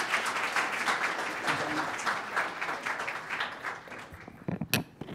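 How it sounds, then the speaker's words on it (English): Audience applause at a museum evening lecture on cooking and mathematics, a dense, sustained round of clapping that carries steadily through the room and breaks into scattered claps as it tapers off at the end. "a round of applause for her"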